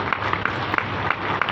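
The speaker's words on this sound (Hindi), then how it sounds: "आप ताली बजा के बढ़ाओ।" Audience clapping at a cowshed groundbreaking ceremony in Ashapura village near Mhow, a steady dense patter of many hands with no voices over it.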